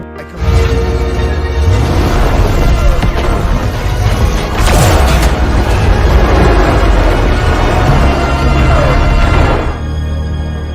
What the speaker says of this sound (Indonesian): Silin meminta tim untuk mundur dan akan menggunakan robot untuk meledakkan bom.